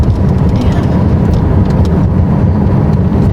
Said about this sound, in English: I'm driving a McLaren.